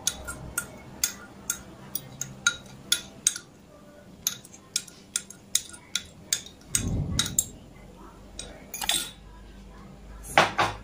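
Spoon scraping the inside of a pot during vegan cream of pumpkin soup cooking, with sharp repeated metallic clinks at an uneven rhythm and a brief rushing burst midway.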